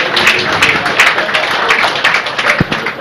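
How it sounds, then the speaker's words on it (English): Crowd applause at a Nigerian Army Day celebration, a dense run of claps that carries steadily for a few seconds at close range. "can we celebrate the Nigerian Army with another resounding applause"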